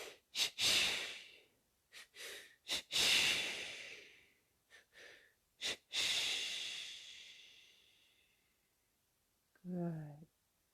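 Yoga breathing exercise of short breaths in and out, with close, loud hissing exhales and sighs in uneven bursts, the last long breath fading out, followed by a brief voice at the end.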